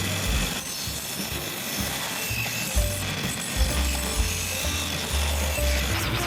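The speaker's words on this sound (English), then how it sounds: "Back over to the bandsaw to cut those shapes out" A bandsaw with an aggressive-tooth blade cuts shapes from a cedar fence plank, giving a steady rough rasping cut over a low motor hum that shifts in pitch as the wood is fed, close and continuous.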